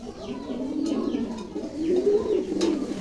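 A pair of shorting-breed pigeons coo at a breeding farm, with repeated low, rolling coos close by and a few soft rustles, and no talk over them.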